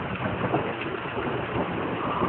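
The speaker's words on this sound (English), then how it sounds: "it's raining like a waterfall outside" Heavy rain pours steadily outdoors, a dense continuous wash of falling water like a waterfall, loud and close, with no breaks and no voices.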